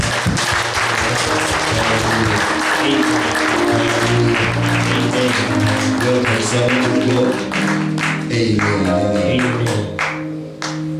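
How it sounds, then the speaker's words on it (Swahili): A church congregation claps to welcome a bishop, loud continuous applause layered over sustained music or tones, with some louder individual claps standing out toward the end. "Let's put our hands together."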